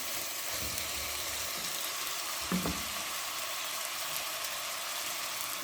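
Turnip and meat frying with spices in a pan for shaljam gosht, giving a steady, even sizzle throughout with one brief louder stir partway through, and no voices.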